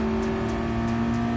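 A race car engine in Gran Turismo Sport drones at a steady high pitch during an overtaking move. The tone holds loud and constant with no talk over it.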